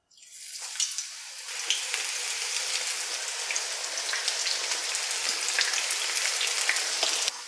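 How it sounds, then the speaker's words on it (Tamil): Spiced soya chunks slid into hot oil for deep-frying burst into a dense, rain-like crackle that rises after a moment and continues steadily with bright popping bubbles. "எண்ணெய் சூடானதும் நம்ம மிக்ஸ் பண்ணி வச்சுருக்க சோயாவை சேர்த்துக்கலாம்"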